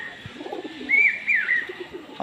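Pigeons coo softly nearby, a few rolling, warbling calls rising and falling in a short run against quiet background rustle.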